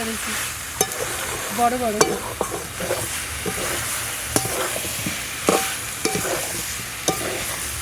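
Potatoes, spices, egg and jackfruit being stir-fried together in a pan, a steady sizzle broken by repeated scraping and clanking of a spatula against the metal.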